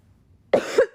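A person gives a single short, sharp throat-clearing cough, loud and close, following a moment of near silence.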